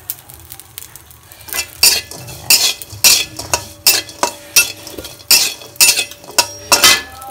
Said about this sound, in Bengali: আমি এভাবে ভেজে নিব।